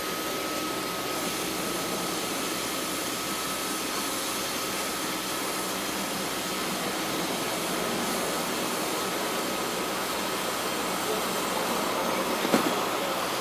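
A hot-air welder running over Mapeplan PVC/TPO roofing membrane, a steady loud blowing hiss with a faint constant whine, unbroken throughout, ending with a brief sharp click near the end and no talk.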